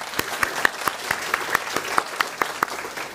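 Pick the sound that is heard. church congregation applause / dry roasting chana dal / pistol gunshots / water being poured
church congregation applause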